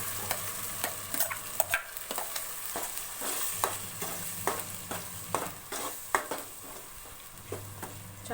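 Masala being stirred into bitter gourd curry in a pan, with steady scraping strokes of a spoon and a soft ongoing sizzle, close and moderately loud with no voices.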